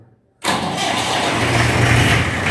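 An antique Mahindra B 275 tractor engine cranks and catches after a brief silence, then settles into a steady, loud, rumbling run close by.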